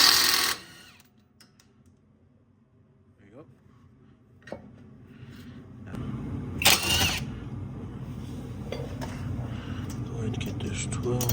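A power tool with a socket removing 14 mm bolts from a Lexus RX350 strut: a short impact whir at the start, quiet handling, then a louder motor buzz in bursts, with a voice talking.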